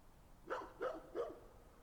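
A dog in a video game barks three times in an even rhythm, each bark clear and fairly close, with no talking over it.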